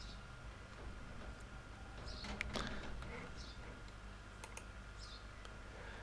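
Keyboard typing and mouse clicks from entering income into accounting software come in sparse, faint taps against quiet room noise, with a small cluster of clicks around the middle.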